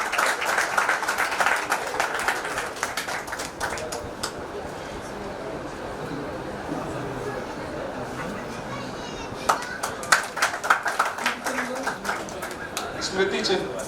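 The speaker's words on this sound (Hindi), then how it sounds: "जोरदार तालियां हो जाए।" Audience clapping at a Rotary Club installation ceremony in Gadarwara, with bursts of claps at the start and again near the end, mixed with steady talk and crowd murmur throughout.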